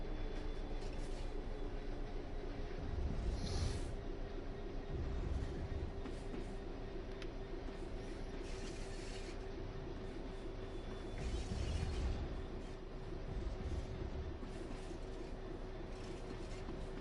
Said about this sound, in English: you can hear the train going over the points behind you